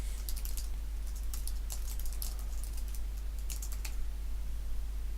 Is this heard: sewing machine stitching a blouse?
no